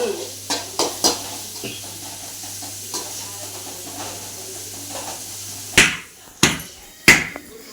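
Chickpea sundal sautéed with asafoetida in a pan brings a few light knocks of a spoon against the pan early on, a soft low hum underneath, then three sharp loud scrapes or taps near the end, close by.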